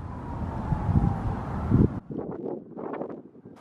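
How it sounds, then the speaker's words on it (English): Wind gusting by the water at low tide, a loud rushing rumble buffeting the microphone that builds and then abruptly drops to lighter, uneven gusts. "It's windy."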